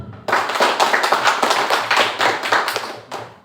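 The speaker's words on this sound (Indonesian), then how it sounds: "mari tepuk tangan dulu kita semua" A group claps together at a teacher training session, a steady run of sharp, fairly loud claps that keeps up for a few seconds and then stops abruptly.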